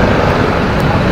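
Dense road traffic in Kerala near Thiruvananthapuram forms a loud, continuous roadway rumble in a short burst, with voices faintly mixed in.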